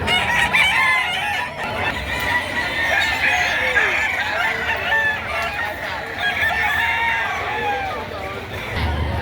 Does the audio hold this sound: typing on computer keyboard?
no